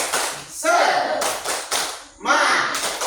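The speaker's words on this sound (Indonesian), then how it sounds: "Kita tepuk semangat, ya." A classroom of pupils doing the Indonesian rhythmic spirit clap, quick claps in short bursts mixed with shouted chanting voices, loud and close.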